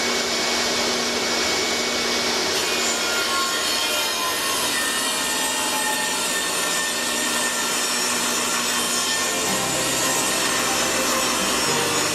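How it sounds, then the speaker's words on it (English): A saw rips 4x4 wooden legs down to 3 by 3 inches, a loud continuous grinding cut with a steady high whine that shifts partway through and deepens near the end, heard alone. "Now I'm going to rip them down to 3 inches by 3 inches."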